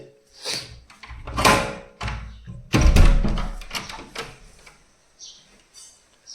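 A house door being opened in the morning, a series of close clunks, rattles and scrapes of the latch and panel, loud at first and then tapering to a few faint knocks.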